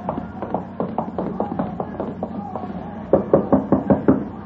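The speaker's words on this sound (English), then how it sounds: "You knock on the door." Someone raps steadily on a door with a long string of close knocks at an even rhythm, ending in a louder, quicker cluster, and no one speaks.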